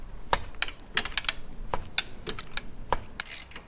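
Sharp metallic clicks and ratcheting taps come at an irregular pace while front bolts are removed from the rear differential bushings of a high-mileage, 21-year-old BMW, heard close and without talk.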